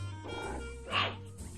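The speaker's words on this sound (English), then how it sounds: "What are you growling at?" A small feisty puppy gives a low, close growl that rises briefly into a rougher snarl before settling, heard alone without talk.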